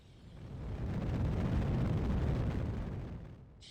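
An AJ-10 rocket engine fires up in a spaceflight video game, a deep, rumbling roar that swells in over the first half second, holds steady and fades near the end, with no talk.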